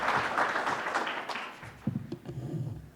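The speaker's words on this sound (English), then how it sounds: "could I ask you, with your applause, to please welcome Sandy Winnefeld, Admiral Winnefeld." An audience at a CSIS national security event applauds to welcome an admiral to the stage, a broad rush of clapping that tapers off, followed by a few thumps and scattered taps as the noise settles.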